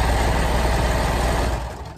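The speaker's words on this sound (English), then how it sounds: "since I'm doing this on a serger" A serger stitching a seam on a lounge gown, a loud, fast, steady mechanical whirr with a dense rapid rhythmic pulse, close up, easing off at the very end.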